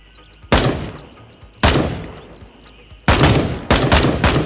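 Gunfire from AI enemies in the video game Gray Zone Warfare: four loud, sharp shots, each trailing a long echoing decay, two widely spaced and then a quicker pair near the end.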